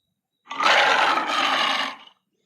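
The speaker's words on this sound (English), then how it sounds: "I think that it is a lion." A lion roars once in a single sustained, rough blast lasting over a second, loud and close, with silence before and after.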